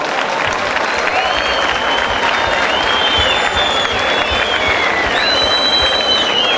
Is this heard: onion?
no